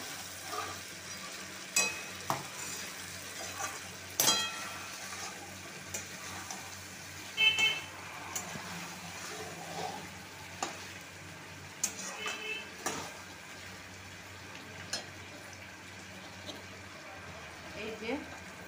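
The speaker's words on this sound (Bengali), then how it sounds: "এবার কষা মাংসের উপরে আমি চর্বিটা দিয়ে একটু কষে নেব।" Mutton being stir-fried in a pan with added fat, a steady low sizzle with scattered scraping stir strokes and clinks, moderately close, with faint background noise.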